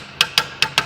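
Four sharp, evenly spaced metallic taps from a hammer seating a brake component on a BMW 650i during a brake replacement, close and distinct with quiet between strikes.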